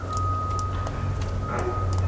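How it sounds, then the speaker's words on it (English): Construction vehicle reversing beeps, a steady tone sounding on and off in the background over a continuous low engine rumble outdoors. "You can hear the beeping in the background."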